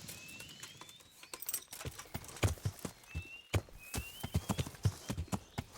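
Horse hooves clip-clop in an uneven walking rhythm in the video game Kingdom Come: Deliverance, close and fairly loud, with a thin high tone rising in the background.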